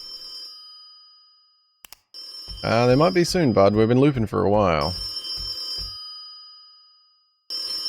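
A telephone rings faintly in a horror video game, its tone thin beneath a voice that runs over most of the stretch.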